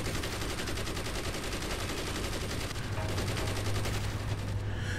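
Turret gunfire from the Walrus tank in Carrier Command: Gaea Mission, a rapid, steady stream of close, loud shots rattling without pause over a low engine hum, no voices.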